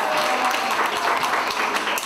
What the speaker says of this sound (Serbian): Mateja, da možeš aplauz za Mateju?